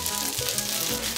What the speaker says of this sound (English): So we're gonna fry this until it gets a little crispy.